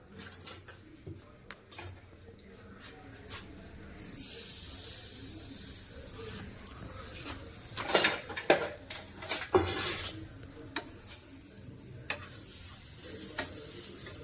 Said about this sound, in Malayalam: അടുത്തത് നമുക്ക് നമ്മുടെ മീൻ ചമ്മന്തിക്കുള്ള തേങ്ങയൊന്ന് വറുത്തെടുക്കാം.